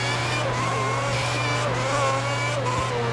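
A Formula 1 car in the F1 2010 racing game at Hockenheim brakes hard into a hairpin, its loud engine dropping in pitch through downshifts under a constant droning whine, close and without talk.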